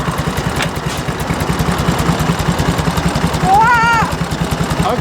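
A 1935 Indian motorcycle engine idles with the clutch pressed and gear engaged, a loud, close, rapid chugging pulse that runs steadily throughout, with a brief rising voice-like tone riding over it near the end.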